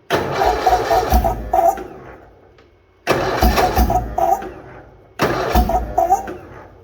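A Bolens HT-23 garden tractor engine in -40 cold weather repeatedly cranks and tries to catch, three loud bursts of rough churning with brief gaps of near silence between attempts.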